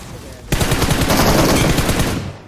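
M762 rifle fire in a shooting video game, aimed at a buggy's tyres: a loud, sustained automatic burst starts about half a second in and continues almost to the end, dense and unbroken.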